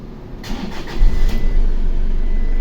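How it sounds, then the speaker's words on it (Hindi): A 2013 Toyota Hilux engine cranks briefly and catches, then settles into a steady, close idle with a low rumble. "ज़रा गाड़ी में स्टार्ट करता हूँ।"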